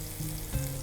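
Galouti kebab frying in ghee gives a dense, continuous close sizzle with a slight bubbling swell partway through.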